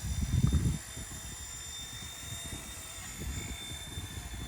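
An RC Era C189 MD500 remote control helicopter flies in gusty wind, its small rotor whirring steadily under heavy wind buffeting that is loudest at the start and then settles into a continuous rough rumble.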